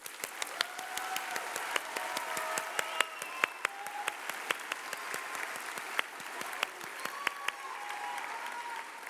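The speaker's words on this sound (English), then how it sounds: "Let's give them another round of applause." Graduation audience at the 2018 Harlingen School of Health Professions ceremony applauds steadily, dense clapping filling the hall for about nine seconds with a few sharper claps standing out.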